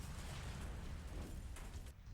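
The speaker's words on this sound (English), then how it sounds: "the flames reach the tanker and it explodes" A fuel tanker explodes in Resident Evil Outbreak, a rumbling game blast that rolls on as a sustained roar and dies away at the end.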